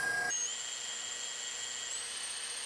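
An electric stand mixer whisks egg whites at high speed with a steady, whining motor drone, close and continuous, its pitch shifting briefly at the start and again near the end.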